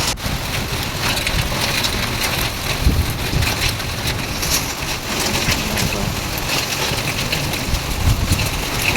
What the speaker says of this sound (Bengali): অল্প অল্প বৃষ্টি হচ্ছিলো